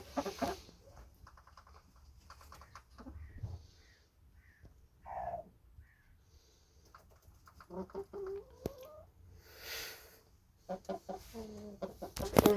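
Chickens, including a moulting hen, clucking and a rooster calling in short, scattered bursts on a farmyard in the evening, fairly close, with quiet stretches between the calls and no talking.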